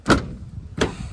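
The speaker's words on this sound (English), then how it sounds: "Close that door." A truck door thuds shut twice in quick succession, two short close knocks over a quiet background.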